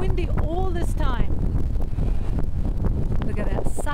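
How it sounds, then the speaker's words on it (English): Strong wind near Mandalay Bay in Las Vegas buffets the microphone in loud, continuous rumbling gusts, with people talking faintly underneath. "there's a lot of wind"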